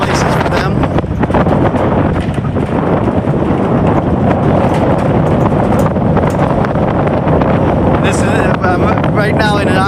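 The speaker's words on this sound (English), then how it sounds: "It's very windy up here, as you can hear." Strong wind buffets the microphone in a loud, continuous roar atop an observation tower at a donkey sanctuary on Bonaire, with a voice briefly audible near the end.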